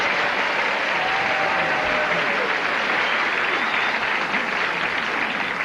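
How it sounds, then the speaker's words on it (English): Steady studio audience applause at a game show, a dense wash of clapping that holds evenly loud from start to finish with no voices over it. "The audience is applauding Bone."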